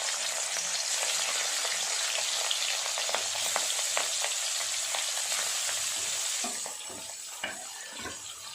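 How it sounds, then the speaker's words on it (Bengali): Fish pieces frying one by one in hot oil for a fish curry, giving a loud, steady, close sizzle with scattered crackles and pops. The sizzle softens a little near the end. "এক এক করে মাছগুলো সব ভাজা করে নেব।"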